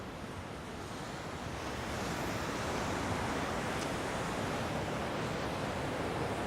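Ocean waves breaking on a rocky beach at Sharpes Beach, a broad continuous roar of surf that swells slightly louder after a couple of seconds, with wind noise and no voices.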